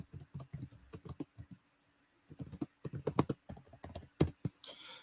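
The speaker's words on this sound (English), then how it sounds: "Sorry, I was typing." Quiet bursts of typing on a computer keyboard, irregular clusters of soft clicks with short pauses between, close to the microphone and alone.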